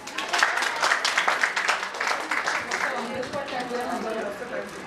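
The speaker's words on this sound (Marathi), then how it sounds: "टाळ्या." Guests applauding at a 50th birthday celebration, brisk clapping from a modest gathering that thins and fades over a few seconds, with voices mixed in.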